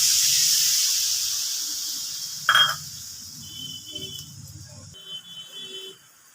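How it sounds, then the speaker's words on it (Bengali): A bowl of water poured into hot fried amudi fish masala in a kadai, bursting into a loud hiss that fades over a couple of seconds, followed by a utensil clink and quieter bubbling. "এবার আমি ঝোলের জন্য এক বাটি জল দিয়ে দিচ্ছি।"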